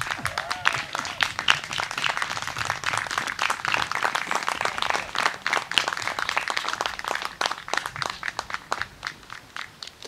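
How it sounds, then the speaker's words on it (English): A crowd at a Memorial Day ceremony in Vernon claps for police, fire and rescue workers, a sustained, moderately loud round of uneven, overlapping claps with no voices. "give each and every one of our police, fire, rescue workers, and all the rest of those who in any way work to feed, clothe, and keep us safe a rousing round of applause"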